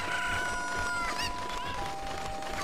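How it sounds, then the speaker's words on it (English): A chicken clucks and squawks in rising, warbling calls over steady game music in The Legend of Zelda: Ocarina of Time, with no talking. "Chicken, come here."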